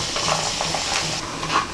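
A wheat-bran papad fries in hot oil in a kitchen pan, with a steady close sizzle broken by light stirring and scraping sounds at irregular intervals.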